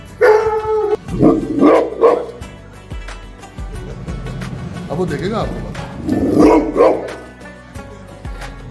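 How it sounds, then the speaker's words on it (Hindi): Two large pet dogs at a general's home bark in loud bursts near the start and again later, mixed with whimpers, while someone talks over them. "तो इन्होंने 2 बड़े ही आला किस्म के कुत्ते रखे हुए हैं, आपको दिखाते हैं।"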